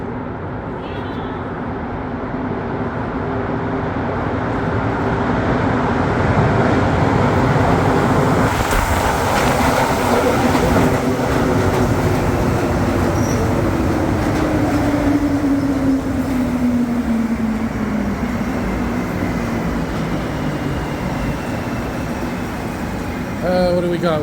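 A Montréal Métro train approaches through the tunnel toward Crémazie station, a steady roar building slowly from the distance into a loud, sustained rumble with a rising whine and rattling, while people talk faintly nearby.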